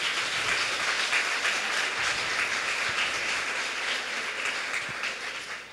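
A church congregation applauds together, a steady dense wash of clapping that holds evenly throughout and tapers slightly at the end, with no voices over it.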